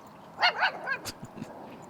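A dog on a disc golf course gives a few quick high yips and barks close by, followed by softer whimpering sounds, over a quiet outdoor background.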